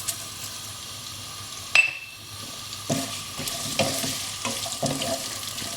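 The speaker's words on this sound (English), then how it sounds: "So once the oil is hot, we can add our onions. And also the Bengali 5 spice or pachforon." Onions and Bengali five spice (panch phoron) hitting hot oil for a Bangladeshi vegetable curry give a steady close sizzle, with a sharp burst near the start followed by scraping stir sounds and clinks.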